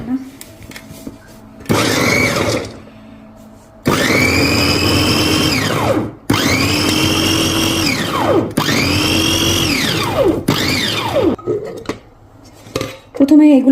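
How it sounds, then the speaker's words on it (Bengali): Blender grinding ginger, red chili, green chilies and coriander leaves for a chicken kebab masala: four loud, close bursts of whirring motor whine, each winding down in pitch before a short pause. "এখন আমি এটাকে প্রথমে এগুলা দিয়ে ব্লেন্ড করে নিব।"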